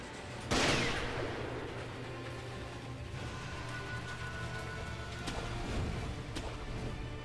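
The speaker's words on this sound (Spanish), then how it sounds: "Joder, con los disparos." Gunfire in the video game Sekiro: Shadows Die Twice, a sharp loud shot followed by scattered rattling bursts and crackling over a steady rumbling backdrop, fairly quiet overall.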